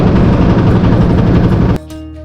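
A boat engine runs loud and close with a steady low drone as the boat sets off for a trip toward Tanguar Haor, then cuts abruptly to a quieter hum near the end.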